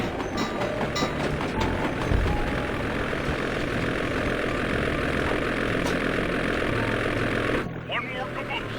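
Propeller plane engine in the video game Sly 2 drones loudly and continuously, mixed with game effects and speech, cutting off near the end.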